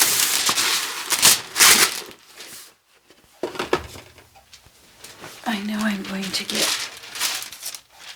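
Wax paper crinkling at close range during a craft session with matte and gel medium, in bursts of crisp rustling and crackling, with speech and brief quiet gaps between.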